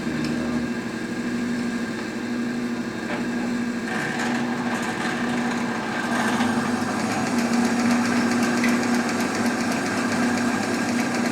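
A distributor test machine runs steadily while warming up, a continuous motor whine with a faint mechanical hum and scattered ticking, rising slightly louder toward the end.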